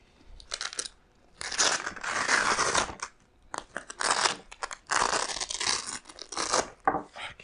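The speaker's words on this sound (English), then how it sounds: "So I'm just gonna cut this off." Cutting through webbing on a Warrior Assault Systems Low Profile Direct Action Mk 1 shooter belt, heard as several close, rough bursts of snipping and tearing with short pauses between them.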